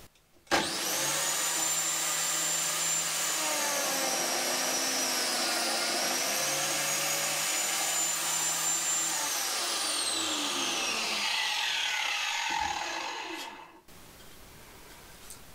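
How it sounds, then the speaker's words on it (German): Biscuit joiner cutting slots in 18 mm multiplex plywood for a mobile workbench: a loud, steady high-pitched motor whine lasting about twelve seconds as the blade plunges and withdraws, then spinning down to a stop. "Als ob die Flachdübelfräse genau für 18 mm gemacht ist."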